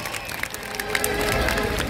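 Concert crowd at an outdoor rock show in Concepción, Chile, applauding and cheering for a steady two seconds, a dense wash of clapping and voices at moderate distance.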